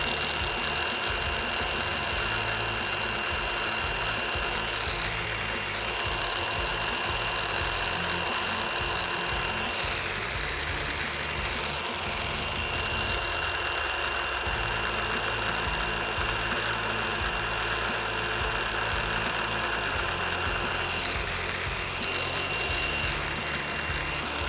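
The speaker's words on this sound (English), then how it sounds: "I'm just gonna get just on the edge of the grinder disc and file them ribs down." An angle grinder steadily filing down the ribs on a Ford Ranger bull bar bumper, a loud continuous high whine with slight pitch shifts as the disc edge bites, running throughout.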